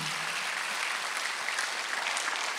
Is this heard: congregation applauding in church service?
yes